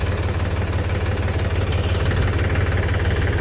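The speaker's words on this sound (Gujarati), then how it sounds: "અને આ છે આપણું ટ્રેક્ટર" A farm tractor engine idling in a field during mung bean sowing, a steady low throbbing hum with a regular knocking pulse, close and constant with no talking.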